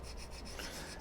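Abrasive rasping of narrow 20 mm sandpaper strips backed with double-sided tape, rubbed steadily against small flat strips while assembling a scale-model tank's running gear; a continuous close scratching with no voices.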